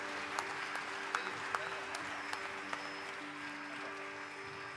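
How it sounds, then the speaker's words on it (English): Faint, distant audience applause at a Bharatanatyam arangetram honoring the Easwarakumar siblings, a soft steady patter with a few sharper claps standing out over a low hum. "Please have another round of applause for the Easwarakumar siblings"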